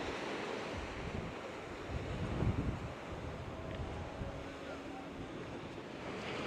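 Ocean waves wash onto a beach in northern Lanzarote where surfers and boogie boarders wait, a steady broad roar of surf with wind noise and one swell of a breaking wave.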